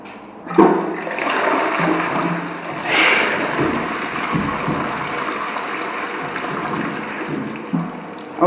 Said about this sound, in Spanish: hay que mantener puesto el botón de la cisterna